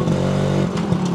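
A Kawasaki HD3 two-stroke motorcycle engine runs loud and close, a steady buzzing drone with a slight dip and rough patch near the end.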